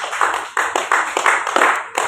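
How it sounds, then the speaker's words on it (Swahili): A church congregation claps hands for Jesus in a brisk, uneven rhythm of about eight loud, close claps over two seconds. "Pigie Yesu makofi."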